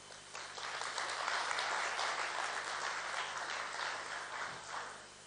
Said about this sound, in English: So I'm already asking a round of applause to all of these founders as well